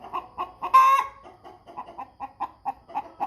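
An American Bresse hen about a year and a half old, currently molting, hollers with loud, rhythmic clucks, one sharper squawk rising above a steady series of close calls.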